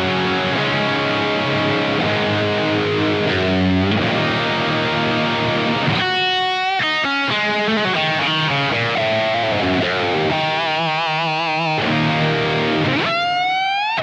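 Loud distorted electric guitar from a Prestige Troubadour RS with one pickup, one knob and a kill switch, playing continuously, with sustained crunchy chords, bends and sliding notes, then sharp kill-switch cut-off stutters and a rising squeal.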